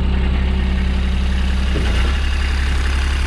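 A 2013 Kubota RTV1100 4x4 diesel utility vehicle idles steadily at close range, its low engine rumble shifting briefly as the hydraulic dump box is raised, with no talking.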